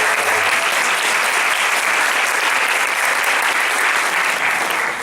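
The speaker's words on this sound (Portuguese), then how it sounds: "uma salva de palmas para você" Conference audience breaking into warm, sustained applause, many hands clapping in a thick, even roar at close range that holds steady and begins to fade right at the end.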